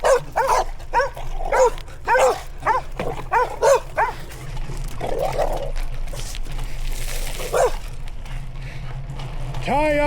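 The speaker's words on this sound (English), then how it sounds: "Tie up your damn dogs." Several dogs bark in a rapid, loud run of sharp woofs along the Natchez Trace in Tennessee, then fall into scattered yips and whimpers, ending with a final bark.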